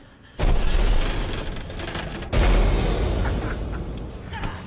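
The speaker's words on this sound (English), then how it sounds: "Oh, and an explosion, even better." Two heavy booms erupt in the survival horror game Alien Isolation, each a sudden loud blast followed by a long rumbling decay, the second arriving about two seconds after the first.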